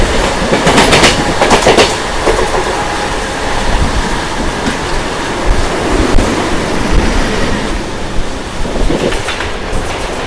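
A fast Mumbai local train rushes alongside on the adjacent track, producing a loud, dense roar of wheels with rhythmic clickety-clack and a rushing wind-like wash that holds steady throughout, close by and with no talking.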